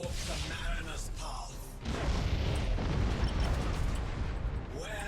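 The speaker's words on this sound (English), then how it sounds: "so these torpedoes might actually kill it right now" Torpedoes strike a ship in Battlefleet Gothic: Armada 2, a space battle game, as a deep booming explosion swells and then rumbles on steadily, with a few sharper bursts earlier in the stretch.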